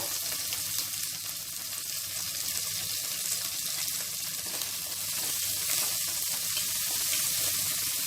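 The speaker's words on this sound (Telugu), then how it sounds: "ఉల్లిపాయ ముక్కలు కరివేపాకు కూడా వేసేసుకుందాము" Onion pieces and curry leaves fry in a pan for a potato-tomato curry, giving a steady, loud sizzle with a broad hiss that runs unbroken throughout, with no talking.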